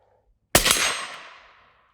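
A single rifle shot fired from a standing position at an outdoor range: one sharp, loud crack that rings out and fades over about a second, with no voices.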